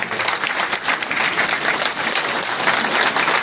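A standing audience at a community society function in Ahmedabad claps steadily for the organizers, a dense, continuous wash of applause at even loudness throughout.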